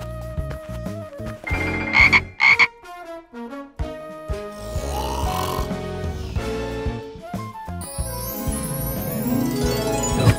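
Cartoon frog croaking in an animated dinosaur farm scene, a series of loud, tonal croaks in bursts over a busy musical score, with a rising whoosh near the end.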